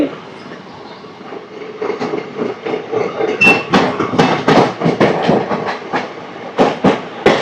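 The 17219 Machilipatnam to Visakhapatnam express train running at speed, steady rumble with rhythmic clickety-clack of wheels over rail joints growing louder and clearer, no voices.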